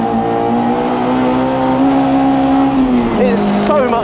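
A Lotus Elan 26R race car driven hard on a track, its engine holding a loud, steady high drone that dips and changes pitch near the end as the driver lifts off, heard from close by inside the car.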